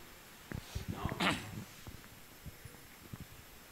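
A person sneezes once, a sharp burst amid quiet breathing and a few soft background sounds during an indoor talk.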